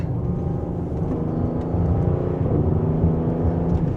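A 2025 Audi S7 Premium Plus engine in dynamic sport mode makes a steady, low, rumbling drone that swells slightly partway through, heard from inside the car with no talk.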